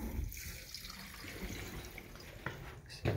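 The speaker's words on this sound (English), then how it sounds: "So now I can go ahead and go back and turn all the water lines on." Water rushes and hisses through household plumbing once the supply lines are reopened on a newly installed Rinnai V65iP tankless water heater in an off-grid home, a steady faint flow with a few clunks near the end.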